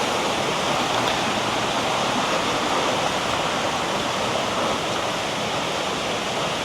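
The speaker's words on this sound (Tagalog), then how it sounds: "Yan ang batis, oh." A forest stream on Mt Makiling flows steadily, a loud, unbroken rush of water with no pauses and nothing else standing out.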